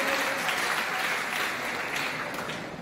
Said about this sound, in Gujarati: આપણે તાળીઓ પાડી આપણો આભાર વ્યક્ત કરીએ.